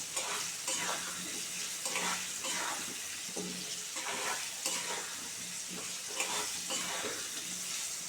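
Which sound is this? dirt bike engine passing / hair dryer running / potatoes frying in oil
potatoes frying in oil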